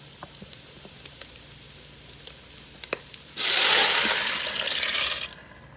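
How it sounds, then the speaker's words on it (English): Dried pinto beans pour into an Instant Pot cooker in a sudden rattling, hissing rush that lasts about two seconds and then fades, after a quieter stretch of faint clicks. "So now we're going to go ahead and add our beans to our"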